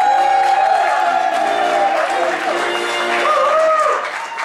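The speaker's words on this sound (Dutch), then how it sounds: "Mag ik een applaus voor onze burgemeester dan en zijn assistenten Leontien" Outdoor crowd clapping and cheering for the mayor and his assistants at a brass band event, with a talking voice and tonal music-like sounds over the applause.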